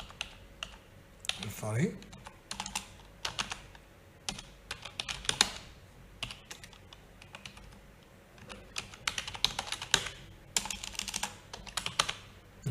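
Computer keyboard typing while registering a user from an API endpoint: bursts of close key clicks with short pauses, under occasional quiet speech.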